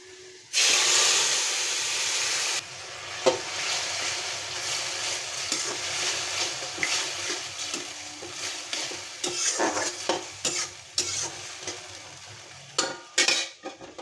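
Vegetables for a potato and greens curry hitting hot oil with a sudden loud sizzle that settles into steady frying, punctuated by stirring scrapes and clinks of a utensil against the pan.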